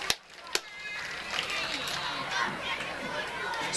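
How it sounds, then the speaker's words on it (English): Home spectators at a high school football game murmur and chatter as a steady crowd hubbub, opened by two sharp knocks, with scattered voices rising and falling. "Nice crowd on hand here."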